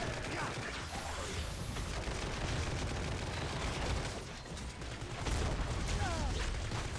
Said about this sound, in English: then we're going to empty our clip with our Open Fire